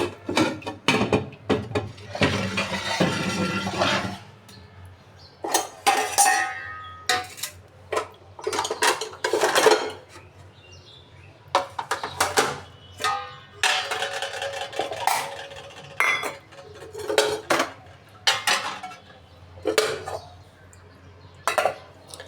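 Dishes, plates and utensils are put away by hand, a long run of irregular clattering knocks and clinks of crockery and metal, close and fairly loud, with brief pauses between bursts.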